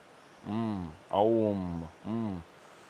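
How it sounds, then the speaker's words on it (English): Three sustained hummed tones on slow exhalations during full yogic breathing, each voiced like a chanted Aum with rich harmonics. The tones are close and steady, separated by brief silent inhalations. "After full inhalation, the exhalation make the humming sound"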